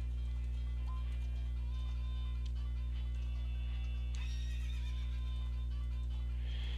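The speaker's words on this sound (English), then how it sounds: "This is just one of the horses that you want to go on" A horse neighs in The Legend of Zelda: Ocarina of Time, heard as faint whinnies over a strong constant low hum, with no speech.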